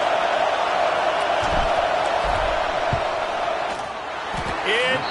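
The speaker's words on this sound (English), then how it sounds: "This crowd trying to do its part to get inside the kicker's head." Football stadium crowd roaring steadily before a fourth-down field goal kick in an Eagles game, a loud, continuous wash of voices with scattered whoops throughout.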